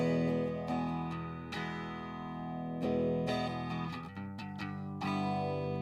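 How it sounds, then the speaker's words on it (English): An electric guitar played through a phaser pedal set to its light mode at a slow sweep, with clean picked notes and chords ringing out and a gentle, slowly shifting swirl across the tone, with no voice over it. "let's just start on light on the phaser"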